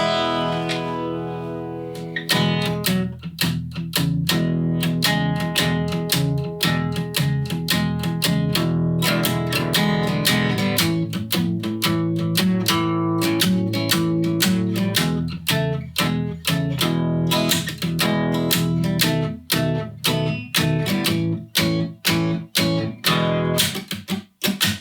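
A 12-bar blues chord sequence played in a bluesy style on an electric instrument with effects, steady strummed chords repeating for about twenty-five seconds, loud and close with no talking.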